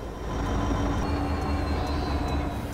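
A train rolls along rails in a railway video game, giving a steady, fairly loud rumble with a few faint, regular ticks from the wheels. No voices are heard.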